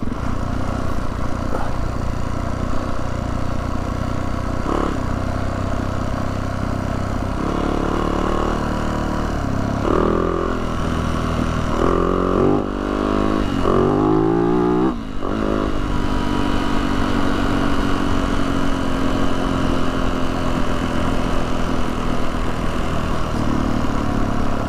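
A 450 dirt bike engine runs continuously while riding a mountain trail in Herriman, Utah, a steady mid-pitched motor drone with shifting revs near the middle, close and loud throughout.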